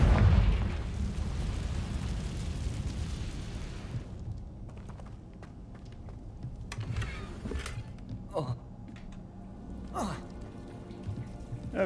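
A Confringo fire spell exploding in the video game Hogwarts Legacy: a loud, roaring blast for about four seconds that thins into scattered crackles and pops.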